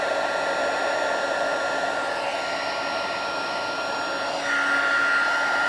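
A heat gun blows a continuous loud whirring, hissing roar as it melts embossing powder on a 3D Christmas tree table favour craft, with a slight shift in pitch near the end.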